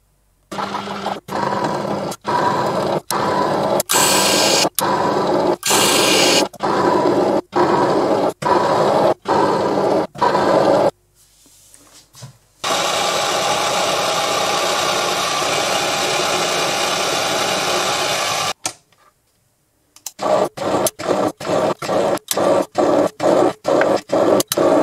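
A metal lathe cuts threads on a silver steel rod with a high-speed steel single-point tool, giving a steady machine drone broken by regular short pauses between passes, close and loud, with no talking.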